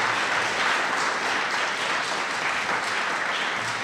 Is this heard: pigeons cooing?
no